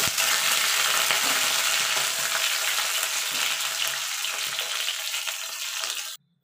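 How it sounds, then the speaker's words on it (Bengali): Broad beans and potatoes fry in hot oil, giving a loud, dense, steady sizzle that cuts off abruptly near the end. "দেখুন বন্ধুরা, সিম আলুটা ভাজা হয়ে গেছে। এবার আমি তুলে নেব।"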